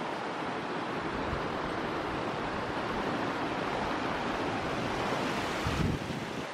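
Rushing water of the Cántaros river near Puerto Blest, Bariloche, heard from a suspension bridge above it: a steady, loud broadband roar with wind buffeting the microphone, continuous for the whole stretch and with no voices.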